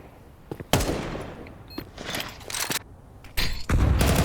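Grenades launched during a competitive tactical shooter esports match, heard as several sharp bursts and thumping booms with a loud sustained blast near the end, no talk.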